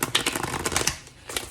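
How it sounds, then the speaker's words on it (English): A deck of tarot cards is shuffled up close, giving rapid, crisp flutters and riffling clicks that briefly pause near the end before another snap, with no voices. "Let me just shuffle the cards"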